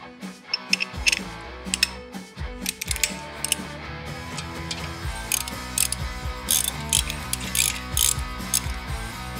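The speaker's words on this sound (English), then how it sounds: "our new hub to knuckle bolts. And again, we're going to torque these to the manufacturer's recommended specifications." A ratchet or torque wrench is tightening the hub-to-knuckle bolts on a Dana 44 axle. It gives bursts of rapid, close metallic clicking with pauses between the runs, and no one speaks.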